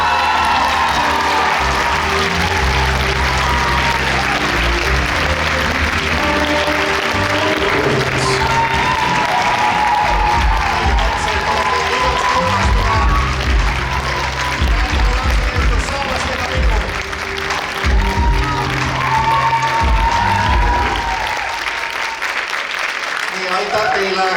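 An audience at the Koolitants 2025 school dance festival in Tartu County, Estonia, gives sustained applause and cheers, dense clapping and shouts carrying on throughout with a voice talking over it and a dip near the end.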